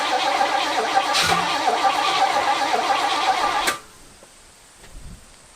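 An Oldsmobile Cutlass engine fired on brake cleaner catches and runs roughly for a few seconds, loud and sputtering, then cuts out abruptly into near silence with a faint clunk afterward.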